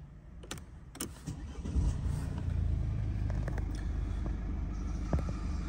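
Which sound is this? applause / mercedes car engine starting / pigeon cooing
mercedes car engine starting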